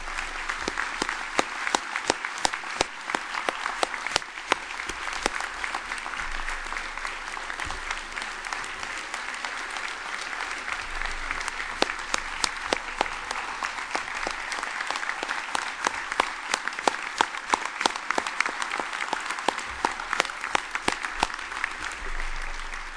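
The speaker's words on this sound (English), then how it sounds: "Let's have one more round of applause for all of the honorees tonight." Sustained applause from an awards ceremony audience honoring First Amendment honorees, a long, even roll of many hands clapping, somewhat distant and moderately quiet, with sharper individual claps standing out.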